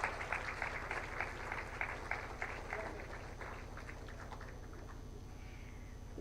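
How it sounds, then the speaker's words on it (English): Applause from the audience at a national intellectual property awards ceremony honouring awardees, a steady, dense patter of many hands over a low droning hum, fading slightly toward the end. "Let's have a warm round of applause for all the awardees."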